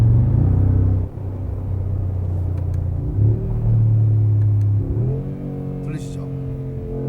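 A 2022 Mercedes-AMG G63 on the road, its exhaust rumbling loud and close as the engine pulls under acceleration, the pitch rising in steps through shifts, with a brief dip near the start.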